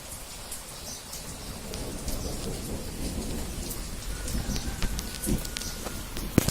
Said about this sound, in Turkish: Burada güzel bir yağmur yağdı.